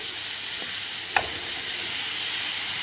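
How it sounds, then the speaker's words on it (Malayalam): A large onion fries in a pan for pepper beetroot fry, giving a loud, continuous close sizzle with one brief utensil tap. "സവാള മൂത്ത് വരട്ടെ."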